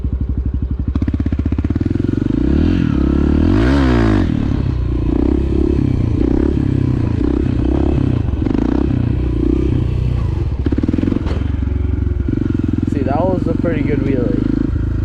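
A motorcycle runs on icy ground during a wheelie, its engine a loud, strong rumble that rises and falls with the throttle. Clatter and scraping sit underneath, with voices talking over it.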